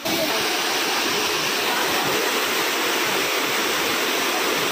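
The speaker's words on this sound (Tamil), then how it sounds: "அந்த பக்கம் இருந்து வருது அருவி, அதுக்கு பின்னாடி இருந்து வருதுங்க அருவி." Kovai Kutralam waterfall in Tamil Nadu pours down in a loud, unbroken roar of falling water that stays steady throughout, with no voices.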